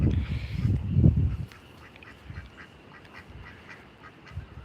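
Ducks in a yard quack loudly in a quick cluster up close, then continue with softer scattered quacks over faint background noise.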